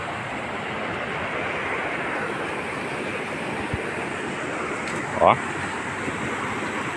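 Mountain stream water rushes steadily near a small roadside chapel, a continuous broadband wash that fills the whole stretch, with a brief spoken interjection partway through.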